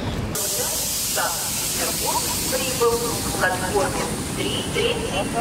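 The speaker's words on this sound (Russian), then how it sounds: "Поезд." Passenger train near Cherepovets, bound for Saint Petersburg: a steady, hissing rumble fills the scene while voices and music-like tones sit over the top.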